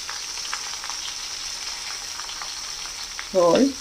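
Green tomatoes with a little turmeric and salt hit hot oil in a pan: a steady low sizzle of frying, then a short louder burst of stirring and spattering near the end.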